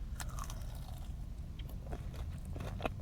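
Crunchy fried jalapeno cheese bites from a fast-food chain bitten into up close, with a few crisp crunches and soft chewing over a low background rumble, no talking.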